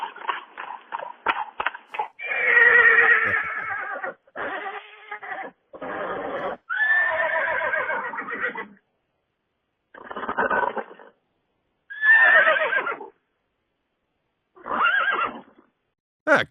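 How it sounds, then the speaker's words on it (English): A horse neighs and whinnies repeatedly, each loud, shaky call followed by snorting breaths, with bursts separated by short silences across the whole stretch. "now that's a horse wanting to date Panda."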